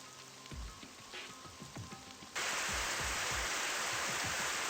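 Ceiling sprinklers in a video game burst on midway, turning quiet scattered thumps into a loud, steady hiss of spraying water that continues to the end, close and dense like heavy rain.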